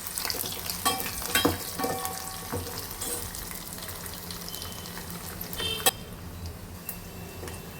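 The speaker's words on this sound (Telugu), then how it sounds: "వెల్లుల్లిపాయలు అయితే కొంచెం ఎక్కువసేపు వేగనివ్వాలండి, అప్పుడే మంచిగా బ్రౌన్ కలర్ వచ్చేంత వరకు వేగనివ్వండి" Garlic cloves frying in hot tempering oil for a Telugu tamarind dal, a steady close crackling sizzle with a few sharp clicks and stirring knocks throughout, no voices.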